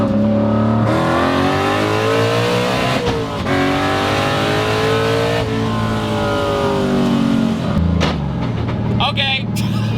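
A Fox Body Mustang drag race car driven on the street, its engine revving up and down through gear changes with rising and falling pitch, loud and close, with someone talking over it.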